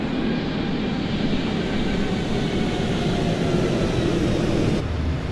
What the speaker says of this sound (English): There you go, get a little flyby.